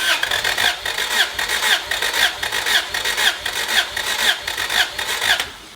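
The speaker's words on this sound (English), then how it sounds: "crank it up and show you guys what the compression ratio is" An engine with its starter cranking during a compression test on cylinder 1, a rhythmic, evenly pulsing whirr of about a dozen compression strokes without firing, close and fairly loud, lasting around six seconds.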